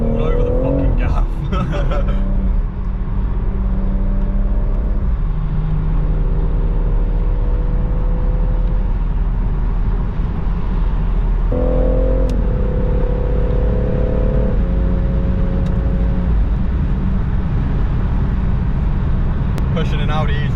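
A BMW M140 accelerates hard while racing an Audi e-tron RS, loud, continuous engine roar climbing through the gears with clear shift steps and sustained revving from the cabin, with a voice briefly audible at the start.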